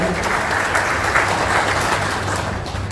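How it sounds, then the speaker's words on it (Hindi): Audience applause welcoming a Rajya Sabha MP onto the stage at a community gathering for a Dhanna Bhagat Jayanti invitation, steady and dense clapping filling the whole stretch with a faint murmur of voices beneath. "मैं सभी से निवेदन करूंगा जोरदार तालियों से हम उनका अभिनंदन करें"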